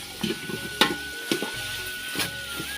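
Beef curry sizzles steadily in a pot in a village home kitchen, broken every half second or so by sharp scraping clinks of stirring.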